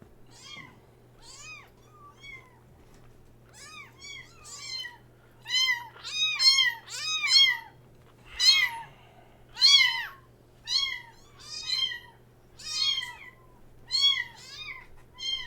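Cats meow repeatedly and close by, a steady run of about a dozen rising and falling cries over a low constant hum, with no talking.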